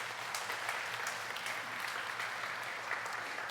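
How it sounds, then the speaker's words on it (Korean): A worship gathering breaks into sustained applause, many people clapping together in an even, dense patter that holds steady throughout with no speech over it. "우리 한번 그렇게 수고한 서로를 위해서 우리 한번 이 시간 한번 박수해 볼까요?"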